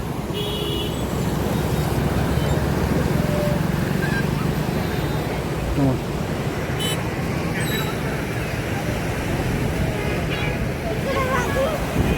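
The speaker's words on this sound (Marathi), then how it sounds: "हे मुळा मोठा नदी मांजरीची पूर्ण फुल झालेले आहे" The flooded Mula-Mutha river at Manjari, Pune, full to the bridge, gives a constant, loud broadband roar of rushing water. It runs steadily throughout, with faint tonal sounds and a voice or two in the background.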